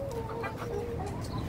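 Black Australorp chickens on a farm give a quick run of several soft clucks close by, with a faint background hum and no speech.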